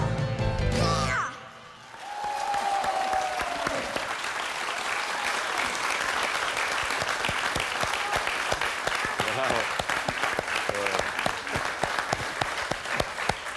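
Loud, dense audience applause breaks out after a song at a Junior Eurovision semi-final and continues steadily, with a voice heard briefly over the clapping.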